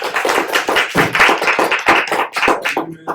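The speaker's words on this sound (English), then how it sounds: "please give our guest speaker a round of applause" Close, irregular clapping from a small group at a college lecture comes in uneven bursts, fading out just before a brief tonal sound at the end.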